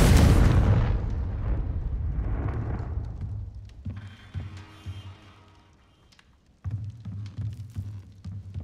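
Confringo fire spell from the game Hogwarts Legacy bursts with a deep booming explosion that rumbles and fades over several seconds, followed by quieter thuds and a second low rumble.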